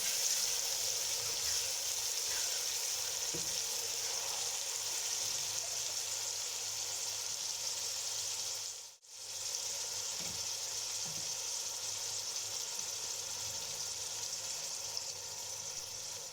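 Finely chopped onions fry in oil in a pan, giving a steady soft sizzle throughout with a brief break near the middle, quiet and without talk.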